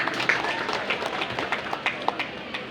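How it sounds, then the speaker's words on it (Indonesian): Applause breaks out at a school committee gathering for a senior high school, a short burst of scattered clapping from an audience, close and fairly loud, mixed with murmuring voices. "Tepuk tangan dulu."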